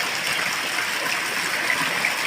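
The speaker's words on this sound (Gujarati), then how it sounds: "મેઘરાજા તૂટી પડ્યા છે અમારા મેથળા ગામની અંદર" Heavy rain pours down on a village with water running through the streets, producing a steady, dense, even hiss that continues without break.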